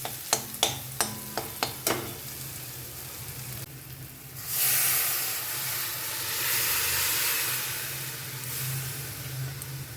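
Boiled dal tipped into a pan of frying tomato and onion tadka: several quick clinks at first, then a loud sizzle and hiss that surges and keeps steaming, close up.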